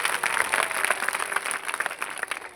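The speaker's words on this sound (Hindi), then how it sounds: "विश्वास करते ताली बजा के प्रभु को धन्यवाद आज सुबह दीजिए।" Congregation applauding in church to thank the Lord at a New Year festival service: sustained, dense clapping from many hands, steady and fairly loud throughout with no talk.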